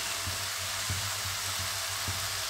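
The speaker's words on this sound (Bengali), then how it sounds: "ভাজা মশলাটা দিয়ে দিচ্ছি।" Roasted spice mix of coriander, cumin and black pepper, dry-roasted in a wooden-handled pan, sizzling steadily in a hot pan for a vegetarian mixed vegetable dry sabji, with a few soft stirring taps over the low hiss.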